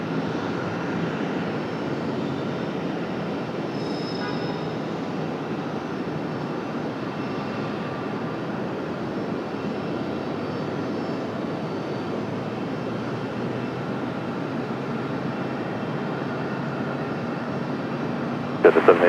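At Raleigh-Durham International Airport, a Boeing 777 airliner taxis toward the gate. Its engines give a steady, broad roar that holds constant throughout, with a brief knock at the very end.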